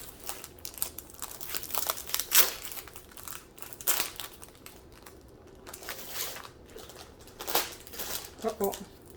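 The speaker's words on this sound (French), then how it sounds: "Une fois que j'ouvre le sachet." A plastic sachet from a diamond painting kit crinkles and rustles in bursts of handling, with sharp crackles at irregular intervals, close by, and a few spoken sounds near the end.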